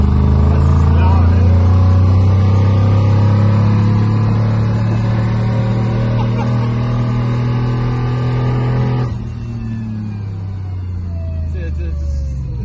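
An untuned Nissan Skyline engine idling loud and low, a deep steady drone held for several seconds before easing to a slightly quieter rumble, close up and without voices.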